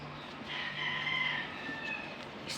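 A gamecock stag from a four-line gamefowl breeding farm crows once, a loud drawn-out call of about a second, with faint farmyard noise around it and no talk.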